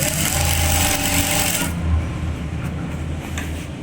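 An electric sewing machine stitches elastic into the waistband of straight pants, a loud steady motor whir that runs then drops to a quieter hum partway through.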